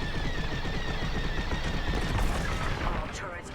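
Turret fire at ships in the space combat video game Star Wars: Squadrons, a dense unbroken rattle of rapid blaster shots with booming impacts, loud and continuous, with a brief tonal sweep near the end.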